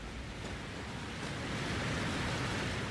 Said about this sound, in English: Well, that's a waterfall.